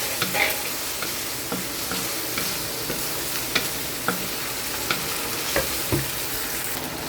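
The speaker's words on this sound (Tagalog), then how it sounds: "Igisa po natin mabuti para hindi malansa." Upo gourd sautéing in a pan with alamang shrimp paste gives a constant close sizzle, broken by regular clicks and scrapes of a stirring spatula, with no talking.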